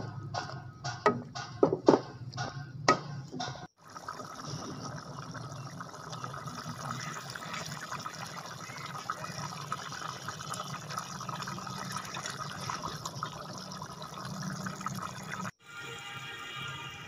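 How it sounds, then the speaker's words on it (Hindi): Water poured into a pan of fenugreek and potato curry in a home kitchen, a few sharp drips first, then a steady splashing stream for about twelve seconds that stops abruptly, followed by a brief splash. "अब इसमें थोड़ा सा पानी ऐड करेंगे"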